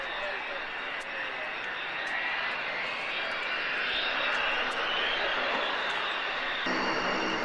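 Departing aircraft at the Boscombe Down airshow in 1992, a loud, steady broadband engine roar that holds for the whole stretch with no pause, swelling slightly toward the end. Talk sits beneath the noise.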